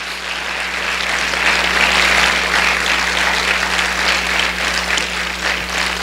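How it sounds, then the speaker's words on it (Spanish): Church congregation applauding during a sermon, a strong, even wash of clapping from many people filling the whole stretch, with a low steady hum underneath. "Dale un fuerte aplauso al Rey de Reyes y Señor de señores"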